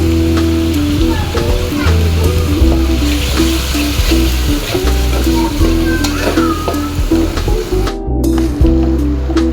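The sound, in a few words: ginger paste frying for biryani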